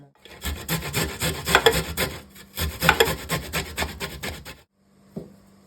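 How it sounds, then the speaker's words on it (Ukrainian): A small head of garlic grated by hand for a meat roll, two close bursts of rapid scraping strokes against the grater separated by a short pause, then quiet with a single soft knock. "Беремо приблизно одну невеличку головку часничку і натираємо"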